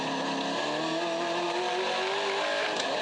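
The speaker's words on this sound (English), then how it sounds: "Listen to the gear change. Third gear. Right down to first, actually." A V8 touring race car at a New Zealand street-circuit race changes down through the gears, its engine note dropping in steps from third toward first, loud and continuous with crowd-free track ambience.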